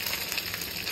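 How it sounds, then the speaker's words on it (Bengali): Katla fish pieces fry in hot white oil, crackling and sizzling steadily at moderate volume in a brief, close burst with no voices. "কি এই মাছগুলো কিন্তু একটার পর একটা ফুটে যাচ্ছে।"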